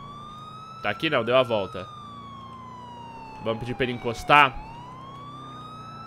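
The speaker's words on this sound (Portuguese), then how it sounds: "Já vou mandar a sirene pra ser rápido" A police car siren wails steadily in a driving video game, a continuous rising and falling electronic tone running throughout while someone talks over it in two bursts.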